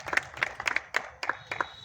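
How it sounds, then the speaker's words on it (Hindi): Audience clapping for a coach at an awards ceremony, a small, fairly close group whose uneven, loose claps come in short clusters over a couple of seconds. "इनके लिए भी बहुत जोर जोर ताली"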